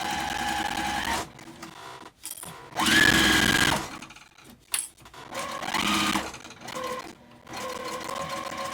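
A sewing machine stitching a tote bag runs in several short bursts of rapid mechanical whirring, separated by brief pauses and small handling clicks.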